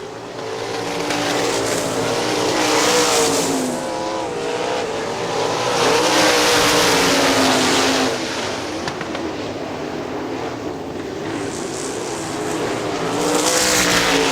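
A pack of 410 sprint race cars circles Hartford Speedway Park in Michigan, engines snarling loudly in repeated surges as cars pass and recede, a continuous roar with rising and falling waves and no voices.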